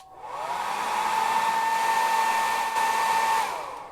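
A hair dryer whines steadily for about three seconds as it warms a plastic action figure torso, spinning up at the start and winding down at the end with a clear tonal hum.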